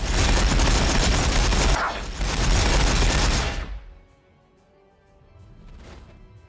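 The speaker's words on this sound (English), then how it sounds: "We're going to shoot a whole lot at them. Unload everything." Ork units unload heavy gunfire on Necron Immortals in a Warhammer 40,000 battle, a loud, dense volley of shots and crashes that stops abruptly partway through, leaving quiet with a faint later burst.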